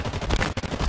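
Rapid automatic gunfire from the video game Halo Infinite fills the short moment, a dense, loud stream of shots with a brief gap partway through, with no talking.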